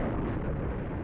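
A distant explosion at a mansion in the video game Otogirisou, heard as a dull, steady low rumble with no sharp attack, rolling evenly and fairly quiet throughout.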